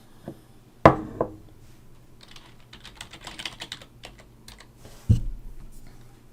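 Someone types a username and password on a computer keyboard to log into GitHub, with a loud key strike, then a rapid run of soft, close keystrokes, and another heavy tap near the end.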